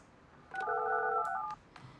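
Touch-tone dialing in the Project Highrise building-management game: a short run of steady two-tone beeps lasting about a second, clear and alone with no talk.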